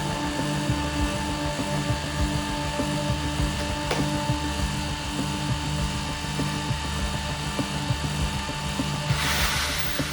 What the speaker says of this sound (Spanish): Ahora conectaremos de nuevo el taladro.